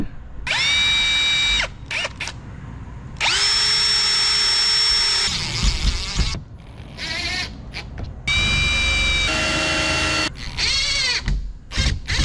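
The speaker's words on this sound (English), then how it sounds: "So now it's time to drill it and put them in." A power drill bores holes through a roof vent flange on a Hymer camper roof, running in several loud whining bursts with short pauses between them and some clatter and handling noise, close by.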